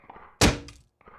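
A single heavy thunk of a kick striking a player in the video game Lethal Company, one sharp close impact that fades quickly, with faint background noise around it.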